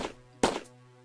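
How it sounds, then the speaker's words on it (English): A single blunt gunshot fires in a Wolfenstein 3D-style first-person shooter built in Unity, a sharp thump with a brief decaying tail that follows a softer hit, over a quiet steady tone. "And let's go shoot our gun."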